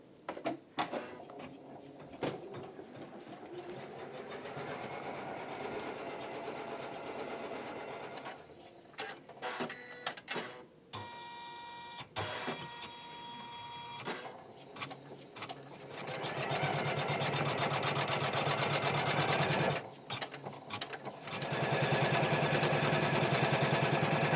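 An embroidery machine sews satin stitches into the centres of flowers on a Home Sweet Home design, humming steadily and loudly across the whole span, with brief pauses and stops between bursts of rapid stitching.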